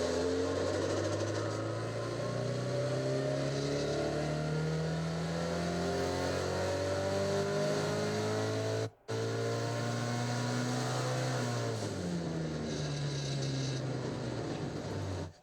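A car engine revs steadily on a dynamometer during a camshaft timing test with the exhaust cam advanced two degrees, a loud sustained climb in pitch, a brief cut, then a second rising pull.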